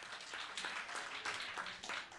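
A church congregation breaks into applause, a steady patter of many hands clapping at once, fairly faint and distant, with rhythmic swells and no clear voices on top.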